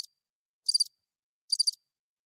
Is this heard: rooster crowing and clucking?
no